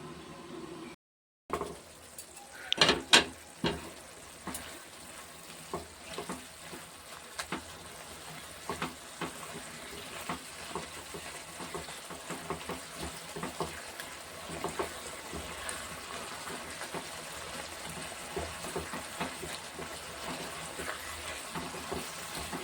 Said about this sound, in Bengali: চিংড়ি মাছ ভাজাটা দিয়ে দিলাম